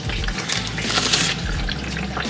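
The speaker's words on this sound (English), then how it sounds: "the oil filter is draining. Or the oil pan is draining there." Motor oil runs in a steady, close stream from the oil pan of a VW Atlas Cross Sport into a catch container, a continuous liquid splashing with no talk.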